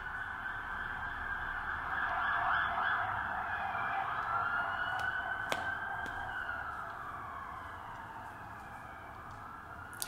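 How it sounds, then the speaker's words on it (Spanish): A police patrol car's siren wails steadily as the car passes at moderate distance, rising and falling in a continuous tone with no talking over it. "ya pasó la patrulla"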